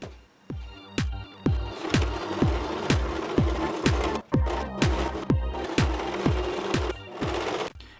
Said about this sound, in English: Then I'll sew it.